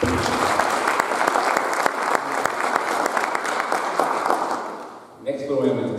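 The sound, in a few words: audience applause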